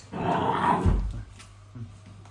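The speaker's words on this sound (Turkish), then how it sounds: "Bu Duru kimin köpeği ya" A low, rumbling Presa Canario growl swells up close, then fades into quieter low grumbles.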